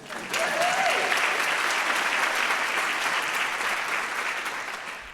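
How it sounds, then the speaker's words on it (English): Sustained applause from a morning audience at an education foundation fundraiser event honoring school staff, a dense wash of clapping that rises quickly and holds steady, with a brief vocal whoop near the start. "Please give them all a round of applause."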